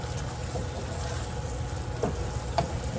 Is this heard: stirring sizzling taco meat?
yes